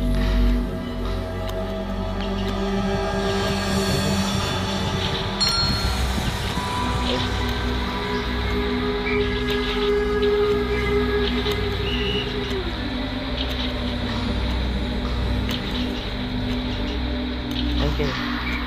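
A train running in the video game FNAF Security Breach gives a steady, continuous rumble with a droning mechanical hum and a whining tone that stays level throughout.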